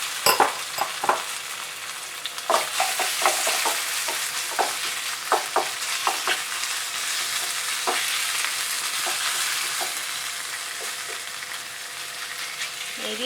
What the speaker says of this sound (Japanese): ちょっと端っこに寄せて炒めます